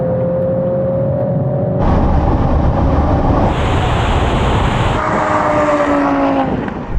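A tuned VW Golf R tears past at full throttle in a drag race: a loud, close engine roar climbs in pitch through quick gear changes, then fades as the car pulls away.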